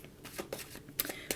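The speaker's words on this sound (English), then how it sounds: "we'll give them another shuffle those back in" Tarot cards shuffled by hand close up, with soft riffling flutters and a few sharper snaps as the deck is worked together; no one speaks.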